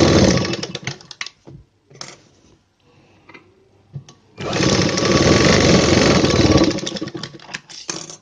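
A sewing machine stitches a blouse in two loud, steady runs, a short one near the start and a longer sustained burst in the middle, separated by quieter handling noises.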